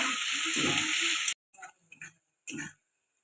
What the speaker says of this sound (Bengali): এবার পেঁয়াজটা আমি একটু লাল করে ভেজে নেব।